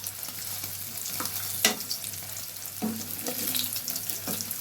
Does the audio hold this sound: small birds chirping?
no